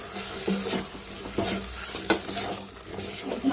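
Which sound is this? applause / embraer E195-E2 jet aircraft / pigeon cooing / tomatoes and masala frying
tomatoes and masala frying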